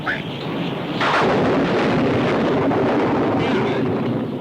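Thunder from a storm outside rumbles through a cabin, one deep rolling crash building after a second and sustained as a broad roar that slowly fades.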